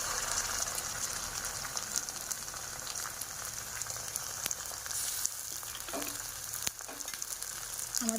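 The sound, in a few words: onion and ground spice paste frying in a pan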